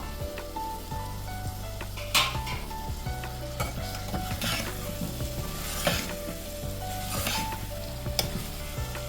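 Tomatoes go into a frying pan and are stirred, giving a steady sizzle with repeated scraping and clinking strokes of the spoon against the pan throughout, close and fairly loud.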